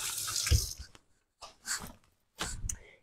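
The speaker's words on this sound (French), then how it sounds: "je me rince les mains" Hands rinsed under a running kitchen tap while baking, with short bursts of splashing water broken by pauses.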